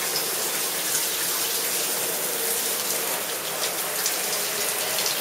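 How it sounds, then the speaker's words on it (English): Shower water running onto a shower floor, a steady broadband hiss and patter close by, unbroken throughout. "and then I'll turn the water on"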